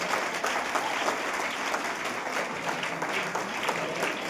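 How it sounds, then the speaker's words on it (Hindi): Loud, sustained audience applause at a Hindi motivational talk on the importance of the guru in the direct selling industry, dense even clapping from a crowd throughout, without any speech over it. "तुमने गुरु के ऊपर जोरदार ताली बजाइए,"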